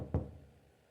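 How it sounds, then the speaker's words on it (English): A single dull knock on a door in the horror visual novel game Spirit Hunter: NG, one short thud that fades quickly into quiet room tone. "knock comes from over by my door"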